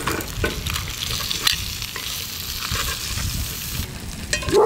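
Herbs, garlic and butter, with chilies, fry in a cast iron pan over residual heat, giving a close, steady crackling sizzle with occasional stirring scrapes and pops.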